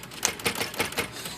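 Sticky keys on a dirty Smith Corona typewriter being worked, a quick run of five or six close, sharp clacks in an irregular rhythm with no talking.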